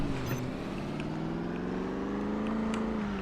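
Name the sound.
old land yacht car engine running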